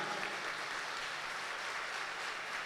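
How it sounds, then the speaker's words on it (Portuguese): A church congregation clapping during a Sunday Mass homily in honour of Saint Teresa of Ávila, a soft, distant wash of steady applause echoing through the space. "Uma salva de palmas para Santa Teresa."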